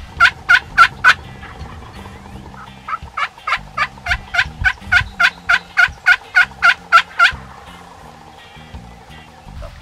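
Wild turkey toms gobbling in spring woods, two loud rapid rattling bursts, a short one then a longer one, fairly close, over faint background murmur like running water.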